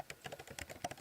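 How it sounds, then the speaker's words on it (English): Quick, irregular clicks of keys being typed on a computer keyboard, close and fairly quiet, with no voices. "I'm typing, but I wasn't typing in anything."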